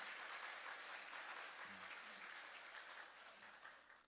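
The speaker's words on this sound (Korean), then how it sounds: "우리 박수로 축복해 주시기 바랍니다" Steady applause from a church congregation, clapping continuously throughout at moderate distance, tapering slightly toward the end.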